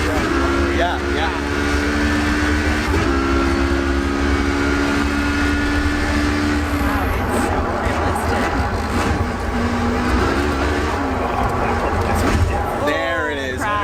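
A racing simulator car engine roars continuously and loud, its pitch dropping and climbing through downshifts and acceleration, with voices talking over it throughout.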